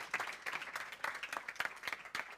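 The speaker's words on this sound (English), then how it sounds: "Let's give them a big round of applause" A theatre audience claps in a fairly quiet, distant round of applause, uneven bursts of hand claps rising and falling over a couple of seconds.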